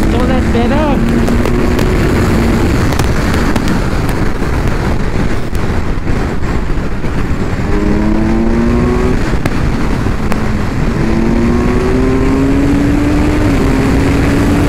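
A Kawasaki Ninja 1000SX motorcycle accelerating hard, its engine note climbing through repeated rising revs with gear changes, heavy wind rush buffeting the microphone throughout, loud and close.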